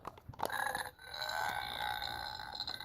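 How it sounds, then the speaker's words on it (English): A toy pet from an ugly-pet-shop set gives off a drawn-out, raspy fart noise, fairly close and continuous, after a few short clicks and knocks at the start. "Yeah, so it farts too."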